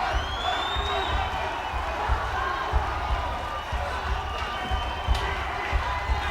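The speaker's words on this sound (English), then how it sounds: "The crowd is getting excited. Cheering them on." Crowd noise at a professional boxing match between David Bostice and Al Cole, a steady roar with scattered whoops and cheers that stays moderately loud throughout, with a voice talking over it.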